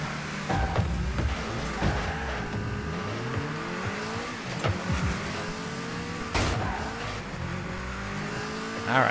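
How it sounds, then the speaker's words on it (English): In the Rocket League video game, a car engine revs and surges loudly, with tires squealing and skidding, pitches sweeping up and down amid sharp bumps and impacts. "Alright, so I got the car running."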